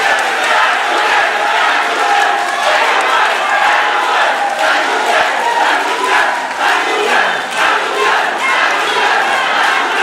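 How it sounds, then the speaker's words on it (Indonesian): A debate hall audience at a 2024 Tomohon mayoral election debate cheers and shouts loudly for a candidate pair, a continuous roaring crowd with a few claps mixed in. "tepuk tangan untuk paslon nomor urut 1"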